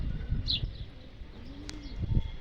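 Pigeons coo softly in a loft, low throaty calls repeating at moderate distance over a faint background of other birds.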